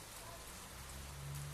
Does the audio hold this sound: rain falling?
yes